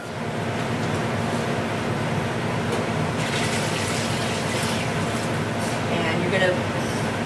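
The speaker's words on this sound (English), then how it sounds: "And at this point we need to add some water" Water is poured into a pot to make broth for crab noodle soup, a steady rushing splash filling the vessel, running continuously and moderately loud throughout.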